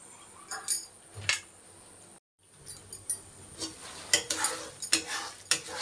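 Mixed vegetables cooked without onion or garlic fry on a slow flame while a utensil stirs them, producing irregular scrapes and clinks against the pan over a soft, low sizzle.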